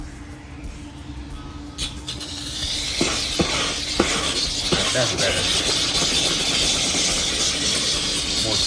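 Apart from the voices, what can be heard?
steamer steaming car trunk panels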